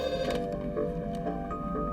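A telephone rings in a repeating electronic bell pattern, steady and moderately loud with no voices over it.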